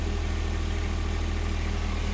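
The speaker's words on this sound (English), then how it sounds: "Start it up. Start idle." A John Deere 2025R compact tractor's engine idles steadily, a loud, close, even low-pitched chug that holds unchanged throughout, with no voices.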